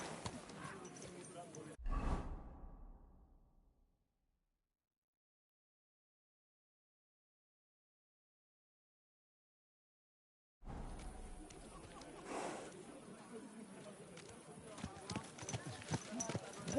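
Horse hooves clip-clop in Kingdom Come: Deliverance II, a medieval role-playing game, heard in two busy stretches split by several seconds of dead silence, the steps fairly close and steady amid other game ambience.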